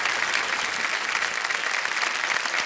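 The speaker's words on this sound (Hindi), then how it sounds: "तालियों के साथ इनका हम अभिनंदन करते हैं" A game show studio audience applauds in a dense, steady burst of clapping, loud and continuous with no voices on top.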